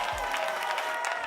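At a beauty pageant in Ghana, an audience claps in a brief, dense burst as a contestant is welcomed, with faint crowd noise mixed into the applause.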